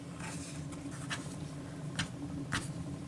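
A rotary cutter sliding along a ruler to square up a quilt block, giving a few soft, brief scraping strokes over a steady low background hum, faint and close, with no speech.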